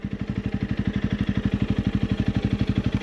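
Close by, a Honda CRF 300 Rally motorcycle idles with a fast, even single-cylinder thump, regular pulses repeating steadily and moderately loud with nothing else over them.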